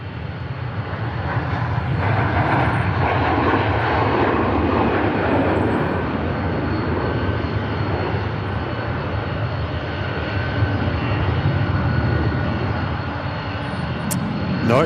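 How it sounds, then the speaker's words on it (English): Distant Virgin Atlantic airliner taking off at Manchester Airport, a steady broadband jet engine roar that stays loud and continuous throughout. "Incidentally, there is a Virgin Atlantic taking off at the moment."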